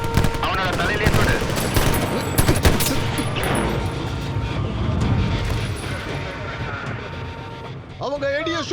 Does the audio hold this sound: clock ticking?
no